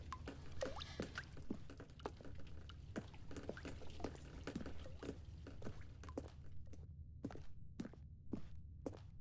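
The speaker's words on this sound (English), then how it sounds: "There's water coming out." Water drips in the video game The Stanley Parable: a steady run of sharp, close taps over a low, constant hum. They come irregularly and densely at first, then settle into slower, evenly spaced drops near the end, with no voices.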